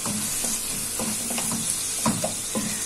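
Spices are stirred into a frying mixture in a pan for baked béchamel pasta, giving a steady sizzle broken by regular scraping strokes of a spoon.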